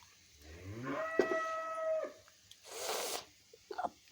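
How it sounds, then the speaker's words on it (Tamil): A village cow moos once, a drawn-out low call lasting about a second, fairly close, followed by a burst of noisy rustle and a few faint knocks. "நம்ம மாடு வேற கத்துதே"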